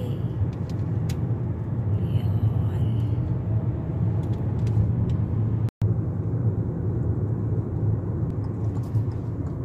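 A car rolls along a city road during a ride-hailing trip in Qatar, with a steady low engine and road rumble heard from inside the cabin and a brief cut midway.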